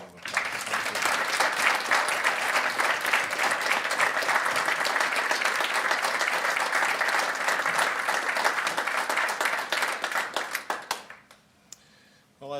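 Sustained applause from the audience at a university faculty hall of fame awards ceremony honoring award recipients, dense steady clapping for about ten seconds that then tapers off quickly into quiet.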